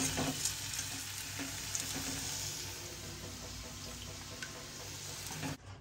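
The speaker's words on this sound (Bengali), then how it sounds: "পনিরটা হালকা হালকা ফ্রাই হয়ে গেছে" Paneer pieces frying lightly in oil in a kadai for a restaurant-style veg dish: a soft, even sizzle and crackle runs throughout, close and continuous, with faint stirring and no voices.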